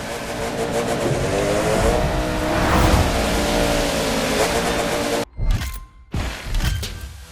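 A race car engine in The Crew 2 roars loud and close, its pitch rising and sliding as it accelerates, then breaks off abruptly into short revving bursts and tire noise.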